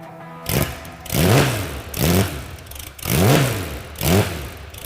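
A Porsche race car engine revs hard four times in a row, each rising roar falling back to a rough idle, loud and close.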